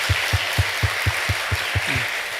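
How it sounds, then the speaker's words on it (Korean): Rhythmic group clapping from a church congregation at a Friday late-night prayer meeting, about ten evenly spaced claps in a steady beat, moderately loud with faint room murmur beneath. "은택이 박수 한번 해주시기 바랍니다."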